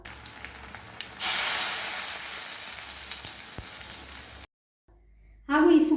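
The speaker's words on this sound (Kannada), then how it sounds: "ಈಗ ತಯಾರು ಮಾಡಿಟ್ಟ ಒಗ್ಗರಣೆಯನ್ನು ಇದರಲ್ಲಿ ಸೇರಿಸುವ." Hot tempering poured into a Mangalorean chickpea and raw jackfruit sukka, bursting into a loud, sharp sizzle that slowly fades over several seconds, then a brief pause before a fresh burst of frying noise.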